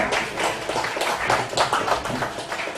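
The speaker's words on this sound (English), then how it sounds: "So round of applause for the startups here" Audience applause at a promotional event for the film Ishqedarriyaan, a steady patter of clapping from a crowd sustained for a few seconds without speech.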